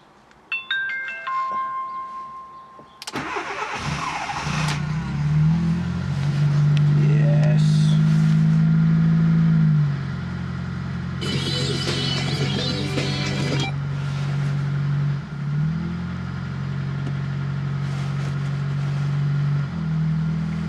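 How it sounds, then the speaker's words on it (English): A Fiat Panda 4x4 Sisley with a fuel-injected engine is cranked from cold in gear with the clutch held down, catches after a few seconds, revs up loudly, then drops back and hums at idle with a few blips. "Take your foot off the clutch and the engine revs die."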